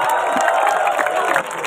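Concert crowd applauding and cheering at an outdoor folk music gathering by a lake, a dense wash of clapping and voices, loud and continuous for a moment before briefly easing.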